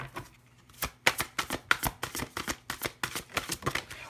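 Tarot cards shuffle in a rapid, rhythmic flurry of crisp riffling snaps, with a few slaps as cards are drawn and laid down, close and fairly loud with no voices.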